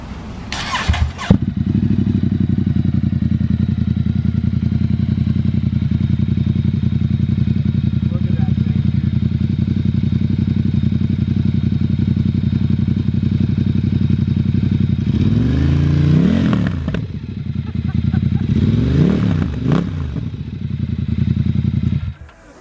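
A Ducati XDiavel motorcycle engine idles steadily and loudly close by, with an open clear dry clutch rattling and clattering throughout; a couple of brief revs swell near the end.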